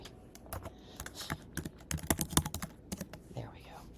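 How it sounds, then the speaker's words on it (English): Quick, irregular clatter of keys typed on a computer keyboard, close and fairly quiet, with bursts of rapid strokes and short pauses between them. "I can't type today."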